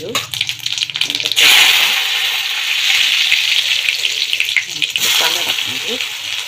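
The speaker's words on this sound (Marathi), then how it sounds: "कढईमध्ये छान अशी मोहरी टाकून घेऊ, तडतडल्यानंतर जिरं टाकून घेऊ" Mustard seeds crackle and spit in hot oil in a kadhai, with a steady sizzling hiss and busy popping that comes on loud after a brief low hum and stays close throughout.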